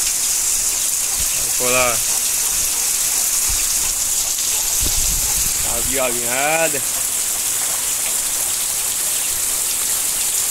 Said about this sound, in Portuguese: Tá chovendo pra dedéu.